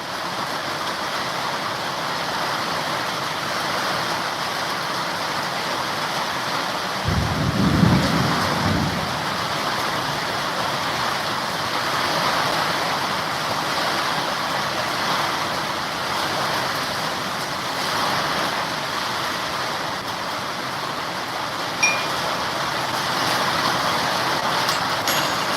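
Heavy rain falls steadily at a homestead, a dense broadband hiss running through the whole stretch with a short low rumble partway through, like distant thunder, and no talking.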